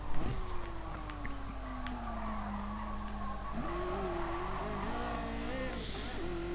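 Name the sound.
Ferrari F40 racing engine in the video game Gran Turismo Sport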